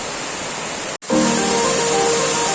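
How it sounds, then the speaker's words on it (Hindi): A waterfall at Asurkhol in Keonjhar roars as a steady, loud broadband rush of falling water, briefly cut off near the start before returning at full strength and continuing alone. "वाटरफॉल के नजदीक पहुंचने वाले हैं हम लोग।"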